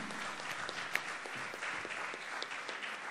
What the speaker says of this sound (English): A round of applause for the efforts of the R&D department